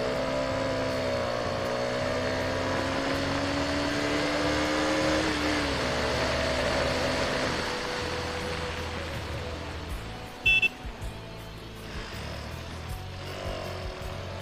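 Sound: KTM Duke 250 motorcycle engine revving in power test

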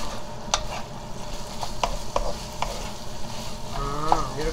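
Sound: stir-frying dried pollock (nogari) in gochujang sauce

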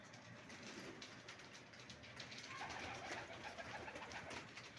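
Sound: pigeon cooing

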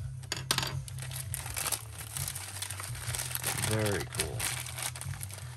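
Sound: cutting open sealed Funko Soda packaging

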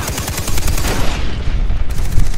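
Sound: gunfire in the video game Far Cry 3

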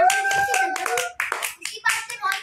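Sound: children clapping hands

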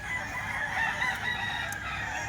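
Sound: gamefowl rooster crowing

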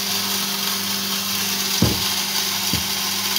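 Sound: grain grinder milling grain

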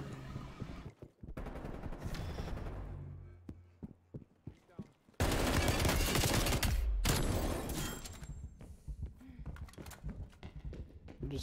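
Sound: gunfire in video game Call of Duty

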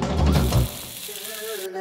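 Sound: meatballs frying in oil in a pan

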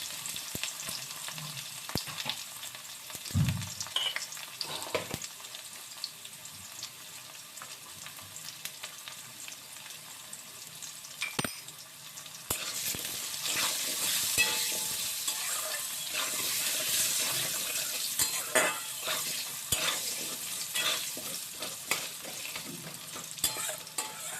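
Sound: potatoes frying with salt and turmeric

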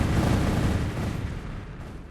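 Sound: gunfire in a video game

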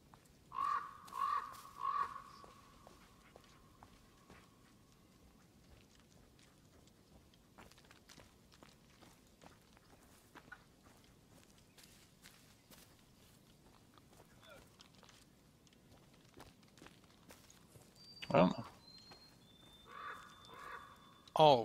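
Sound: crow cawing in Blair Witch video game

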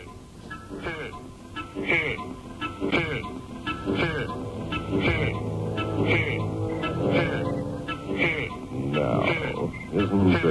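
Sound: radio station jingle

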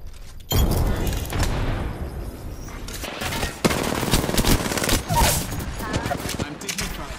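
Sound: gunfire in Apex Legends video game

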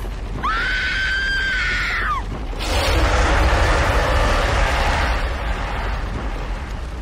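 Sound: woman screaming during film test shots in King Kong video game

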